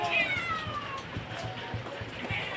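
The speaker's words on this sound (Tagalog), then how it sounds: "Ayan, ang pusa. Nangihingi siya ng pagkain." A hungry cat meows repeatedly for food in a few drawn-out, rising cries at close range, with faint background noise.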